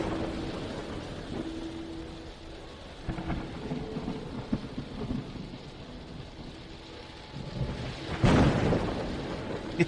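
Steady rainfall with low, rumbling thunder rolling underneath, building to a louder crack and roll near the end, no voices over it.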